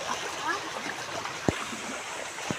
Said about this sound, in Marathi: हे पहा मित्रांनो पूर्ण वाहती नदी आहे